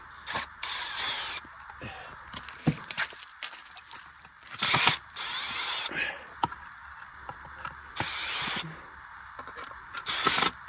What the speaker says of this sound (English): Just gotta take the screws out now, so I don't run them through a table saw.